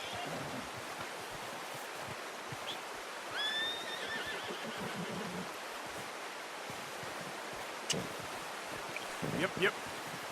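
Horse whinnying in Red Dead Redemption 2, a rising, wavering neigh heard a few times at moderate distance over steady outdoor ambience, with a brief clip-clop of hooves near the end.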